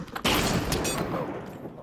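A burst of video-game gunfire starts abruptly and stays loud, a dense sustained volley with a sharp crack partway through, no talk over it.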